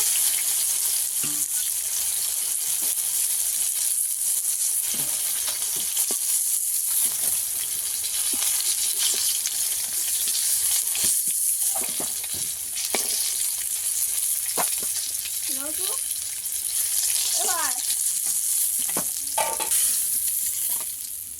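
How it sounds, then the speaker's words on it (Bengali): Pieces of pangas fish fry in hot oil until reddish-brown, giving a loud, steady sizzle with crackles and soft pops throughout, and no voices. "এইভাবে লাল লাল করে ভেজে নিয়েছি এই মাছগুলো"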